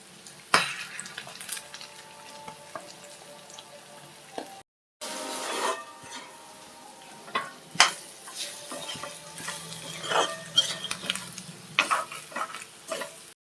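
Curry of kamju (quail) bird being stirred in a frying pan after grated coconut goes in: repeated scraping strokes of a spoon against metal over a steady low sizzle, with a brief gap partway through and no talking.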